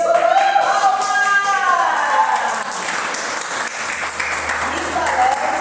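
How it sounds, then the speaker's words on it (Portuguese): An audience applauds after a business lecture on the Business Model Canvas, the clapping swelling loud and fairly close, then thinning as a voice speaks over it. "Quem gostou? Palmas!"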